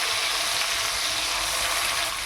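Ground onion paste fries in hot oil in a pan, a steady, loud, close sizzling hiss that holds evenly throughout with no talk.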